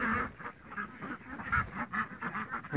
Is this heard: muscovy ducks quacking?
yes